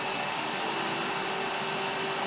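A Hyundai HYCH2800ES electric garden waste shredder with its motor running forward, a loud, steady whirring hum that holds unchanged from start to finish.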